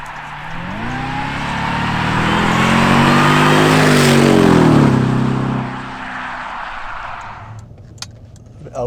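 A supercharged Jaguar XJR fitted with a stage 1 intake revs hard and close, its pitch and supercharger whine rising steadily before dropping back to a lower idle, followed by a few faint clicks.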